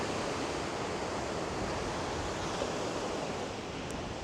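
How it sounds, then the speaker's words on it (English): Waves wash onto a rocky Pacific beach strewn with debris and driftwood, a constant broad roar of surf heard at steady loudness with no voices. "I'll show you guys the beach here. It is pretty rocky."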